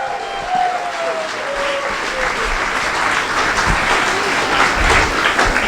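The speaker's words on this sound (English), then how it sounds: "Everyone, round of applause for Natalia." A crowd at a live science debate event claps steadily in a loud, continuous round of applause, with faint cheering and voices mixed in.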